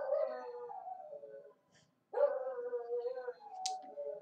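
Dogs left alone howling in long, wavering, mournful tones, two sustained howls separated by a short pause, heard at moderate distance without talk.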